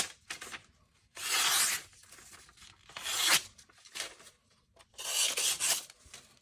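A Benchmade Bugout knife slices through paper in several rasping, tearing strokes, some long and loud, others short and softer, separated by brief pauses.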